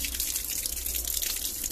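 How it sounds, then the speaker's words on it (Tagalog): Water rushes steadily and fairly loudly from an opened tap while garments are rinsed to keep their dye from bleeding. The splashing hiss is continuous, with no voices. "Buksan nyo tong gripo."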